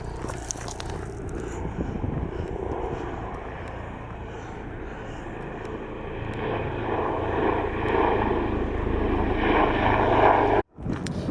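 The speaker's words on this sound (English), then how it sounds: "I can hear a helicopter or something." An aircraft flies overhead outdoors, making a steady droning engine roar that swells gradually louder over several seconds before a sudden brief dropout near the end.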